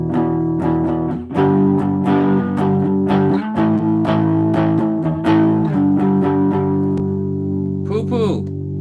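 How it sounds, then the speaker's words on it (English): An instrument is run through a Boss RC-600 looper's distortion input effect turned to maximum, giving a thick, fuzzy, sustained tone with repeated plucked notes and a short squealing burst near the end. "Let's put this up to max distortion so you can see what I mean."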